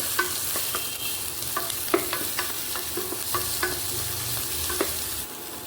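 Onions and curry leaves sauté in a pan with a steady close sizzle, broken by scattered scrapes and taps of a stirring spoon, with no voices.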